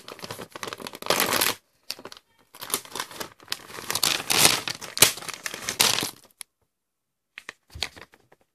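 A plastic bag of Super Lemon candy is torn open with sharp, loud crinkling and ripping in close bursts, pausing briefly, then a few last rustles near the end.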